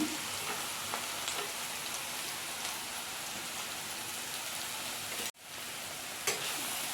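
Ginger garlic paste fries with onions in a pan for a chicken gravy curry, a steady, fairly quiet hiss and crackle that breaks off briefly near the end before resuming.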